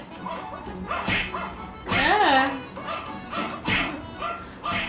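A dog barks and yips in short excited bursts, several times over a few seconds, fairly close, with some noisy background clatter.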